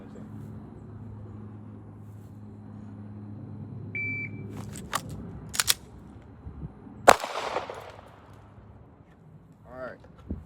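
A shot timer beep followed by Glock pistol shots on a training range: a short electronic tone, then a few sharp cracks spaced apart, fairly close, with a faint hum beneath.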